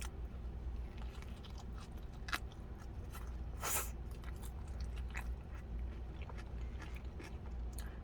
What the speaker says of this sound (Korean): 야채도 많이 들어가 있어서 아삭아삭 씹혀서 맛있고요